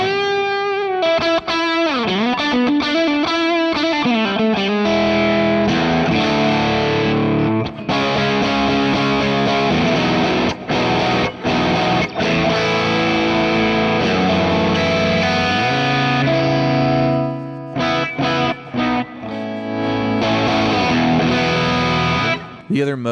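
An electric guitar runs through a cranked JHS OverDrive Preamp pedal, heavily distorted and loud, with bending lead lines, held chords and a few abrupt gaps across a long continuous passage.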